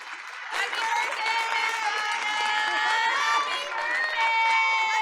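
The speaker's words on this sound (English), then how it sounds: "Let's give Ana a big round of applause." Audience at a school board of education meeting applauding, a sudden full burst of clapping mixed with cheers and shouts that holds steady for several seconds.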